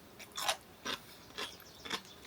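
Crunchy radish bitten and chewed close up, four crisp crunching bursts spaced about half a second apart, fairly quiet with no talking.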